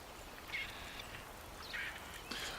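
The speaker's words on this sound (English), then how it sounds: "I hear a bird." Bird calls in a card-based survival fantasy forest game: three short, faint chirping calls spaced apart over soft ambient background, with no talk.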